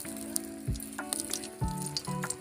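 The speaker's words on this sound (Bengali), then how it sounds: "ফোড়নের জন্য দুটো তেজপাতা দিয়ে দিলাম।" Bay leaves dropped into hot oil as a tempering spice, frying with a short crackling sizzle that flares in two or three brief bursts over a steady background hum.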